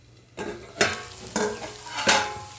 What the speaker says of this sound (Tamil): பாருங்க நல்லா வதங்கிக்கிட்டு இருக்கு